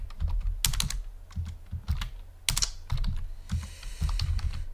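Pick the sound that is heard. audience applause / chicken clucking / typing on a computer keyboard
typing on a computer keyboard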